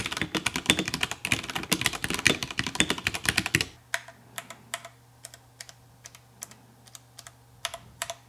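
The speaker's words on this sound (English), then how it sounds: "So you can hear, if I go across the keys," Rapid typing on a Royal Kludge RK96 mechanical keyboard with brown switches, a dense flurry of close keystrokes that slows into sparse, separate key presses with a faint hum behind.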